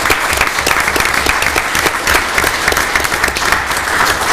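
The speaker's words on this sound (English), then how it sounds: "one more round of applause for these guys" Sustained applause from a meeting audience at a township trustee meeting, dense steady clapping filling the room for several seconds without pause.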